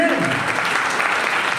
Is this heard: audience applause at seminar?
yes